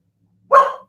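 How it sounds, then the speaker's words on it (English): A single dog bark close by, sharp and loud, lasting under half a second before tailing off, indoors during a livestream. "I think my dog is coming in"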